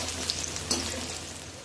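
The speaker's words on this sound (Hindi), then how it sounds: "अभी भिंडी फ्राई करेंगे।" Okra (bhindi) frying in hot oil in a kadhai, giving a steady close sizzle with faint crackles and a couple of slightly louder pops, no talking.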